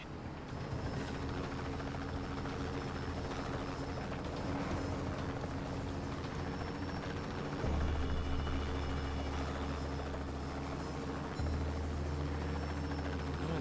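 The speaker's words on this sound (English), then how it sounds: "Colonel Air Force Chopper arriving shortly" Air force helicopter arriving in the video game Just Cause 2, a steady droning rotor and engine hum with low throbbing tones that deepen partway through, continuous and fairly loud, no talk.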